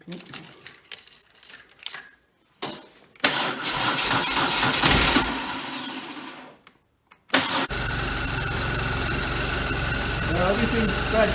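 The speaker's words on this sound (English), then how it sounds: "Let's turn on the bike and see if it spews gas all over it or not." A BMW R1200 Hex Head motorcycle engine cranks and fires up nearby, with clicks and rattles before it catches, then settles into a loud, steady idle.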